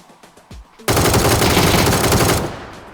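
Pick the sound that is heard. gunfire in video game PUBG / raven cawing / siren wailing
gunfire in video game PUBG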